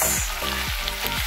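Potato chips for chips kuku vuruga fry in a pan with a dense, loud, continuous sizzle, stirred close by, with no voices.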